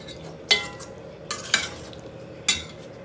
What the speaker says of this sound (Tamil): நல்லா ஒரு மிக்ஸ் கொடுத்துக்கணும்.